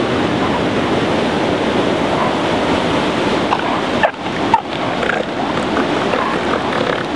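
Surf rolls steadily onto the shore at Pismo Beach in California, a loud continuous wash of breaking waves mixed with wind buffeting the microphone.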